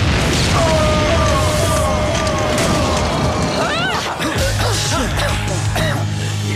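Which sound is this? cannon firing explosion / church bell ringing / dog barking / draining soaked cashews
cannon firing explosion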